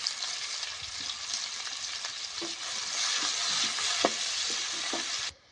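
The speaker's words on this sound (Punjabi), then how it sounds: "ਕੱਟੇ ਹੋਏ ਪਿਆਜ਼ ਜੀਰੇ ਤੋਂ ਬਾਅਦ ਇਹਨਾਂ ਨੂੰ ਭੁੰਨ ਲੈਂਦੇ ਆ" Chopped onions frying with cumin in a pan for a mixed vegetable dish, a loud continuous sizzle with occasional stirring knocks, cutting off abruptly at the end.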